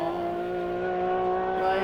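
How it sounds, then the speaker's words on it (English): A car engine drones and revs with a steady harmonic growl, moderately loud, slight rise in pitch near the end. "It's such a cool sounding car."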